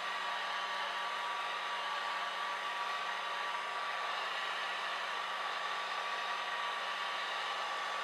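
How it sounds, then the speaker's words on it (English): Steady, continuous whoosh of a modest-powered hair dryer blowing over wet alcohol inks, holding an even hum with a faint tonal whine for the whole stretch, with no talking. "Just experiment with your dryer, get a hang of it, from where to hold, how far does it work best"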